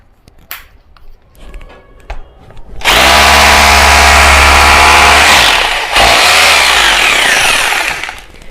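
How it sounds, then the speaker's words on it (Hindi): A rotary hammer drill fitted with a 6 mm bit bores into a concrete pillar, a loud sustained roaring hammering burst lasting about five seconds after a few quiet clicks, briefly dipping midway before continuing. "मेरे को 5 सेकंड से भी कम का टाइम लगा इस पिलर में ड्रिल करने के लिए"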